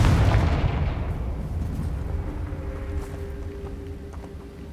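A Confringo fire spell bursts loudly in Hogwarts Legacy, a heavy blast with a deep rumbling tail that slowly fades over several seconds, with no talk.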